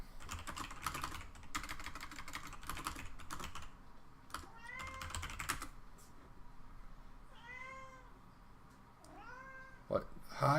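A cat meows several times in rising and falling cries, close and fairly loud, after bursts of rapid computer keyboard typing.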